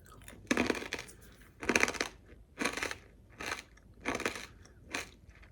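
Crunchy little corn snack bits chewed close to the mic, six loud crunching bursts in a steady rhythm with short quiet gaps, no talking.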